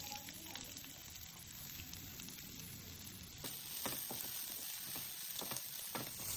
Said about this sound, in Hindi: इसमें मैं डालूंगी थोड़ा सा ऑयल, और ये ऑयल गर्म होने के बाद हम इसमें अपना जो अनियन एंड कैप्सिकम है उसको थोड़ा सा सौते कर लेंगे